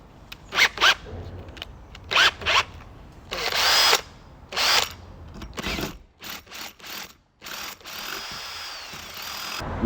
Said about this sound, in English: I could just drill 2 holes, 2 8mm holes.